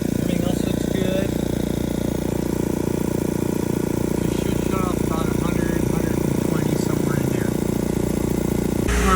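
An air compressor pump runs steadily while building pressure toward 90 psi, a loud continuous mechanical drone with a rhythmic pulsing thump, close by and unbroken throughout, no one speaking.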